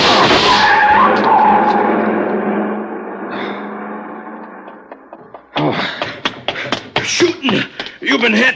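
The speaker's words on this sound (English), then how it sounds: "See the car, the one that just gunned out." In a radio-drama effect, a car guns away with tires skidding and screeching loudly, the roar fading over several seconds before a run of sharp, clattering bursts.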